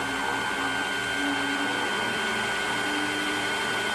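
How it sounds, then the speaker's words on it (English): Animated electric mixer on an excessively high power setting, a loud steady motor whine with a sustained tonal hum, droning continuously with no talk. "let's turn the mixer off"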